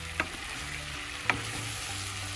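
Long beans and other vegetables for Ilocano-style pinakbet frying in a pan, a steady close sizzle broken by two sharp scrapes of a spoon stirring, with no talking.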